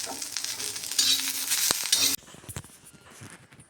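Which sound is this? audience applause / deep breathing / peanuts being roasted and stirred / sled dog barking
peanuts being roasted and stirred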